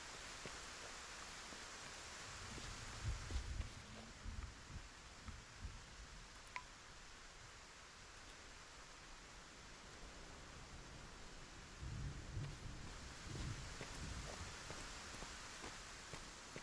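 Heavy rain in the video game Lay Of The Land pours as a dense, steady hiss throughout, with faint low rumbles and thumps now and then beneath it.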